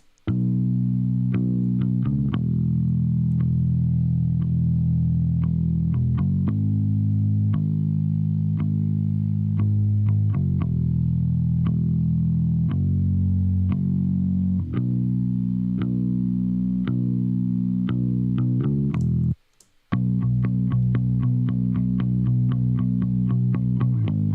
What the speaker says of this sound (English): Here's how the bass sounds like